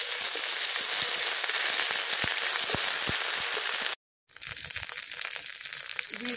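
Garlic paste and ginger paste frying in hot oil in a pan, a loud continuous sizzle with sharp crackles and spatters, cut by a short silent break before the sizzling resumes.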